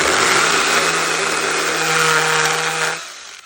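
Ryobi R18CHS20 cordless pruning saw cutting through a branch, a loud steady high-pitched motor whine with a chain buzz that runs continuously for about three seconds and then cuts off abruptly.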